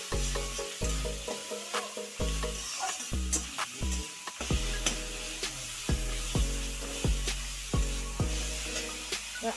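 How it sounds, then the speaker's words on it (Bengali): Garlic paste stirred into onions frying in a pan for mutton curry, a steady loud sizzle broken by repeated rhythmic scraping strokes of a spoon against the pan, with no talking. "এবার রসুন পেস্টটা দিয়ে দেবো, ভালো করে পেঁয়াজের সঙ্গে মিশিয়ে নেব।"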